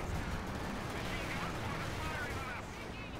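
A 240mm artillery barrage in the Company of Heroes 2 real-time strategy game, a dense continuous rumble of explosions and gunfire throughout, loud and unbroken.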